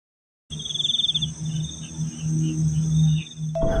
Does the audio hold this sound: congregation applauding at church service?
no